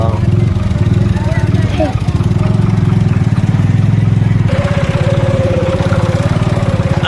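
A heavy tractor engine chugs steadily and loudly nearby in a village, its low rhythmic throb continuing throughout while a voice talks over it, during a rescue of a tractor stuck in mud with a sugarcane trolley.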